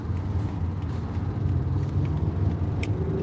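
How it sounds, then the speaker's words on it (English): Steady rumble of cars moving in crowded freeway traffic, a continuous low engine and road drone heard from inside a vehicle, with no talking. "There's too many cars on this freeway."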